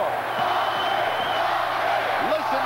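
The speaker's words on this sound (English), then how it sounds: "Listen to the crowd." A World Wrestling Federation arena crowd roars steadily through the whole stretch, a dense wash of cheering and whoops heard under a commentator's voice.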